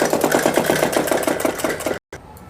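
A sewing machine stitches a suit sleeve, running in a fast regular chugging rhythm of close, loud needle strokes before stopping abruptly, followed by a brief quieter mechanical sound.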